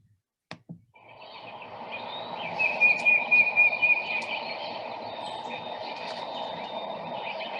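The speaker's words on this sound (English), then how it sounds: "there might be a white-throated sparrow singing in the background" A clear, high whistled bird song rings out for a few seconds over a steady broadband background hum, with a couple of sharp knocks at the start.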